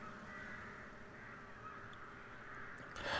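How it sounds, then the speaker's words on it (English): Crows cawing in the Farming Simulator 17 video game, faint and distant over a low steady outdoor ambience, with no talk. "Now, these crows I'm hearing really have me concerned."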